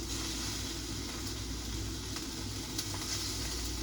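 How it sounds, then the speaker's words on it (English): Food sizzles and crackles in a hot pan, a constant dense frying hiss with a low hum underneath. "hopefully the sizzling isn't too loud"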